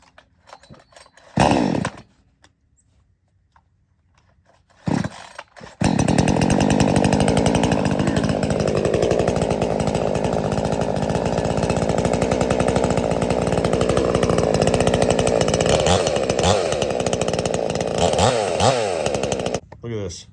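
Cheap 62cc gas chainsaw with a spring-loaded recoil starter: a couple of short pull-start bursts, then the engine catches and runs with a loud, steady, rough two-stroke roar up close for about fifteen seconds.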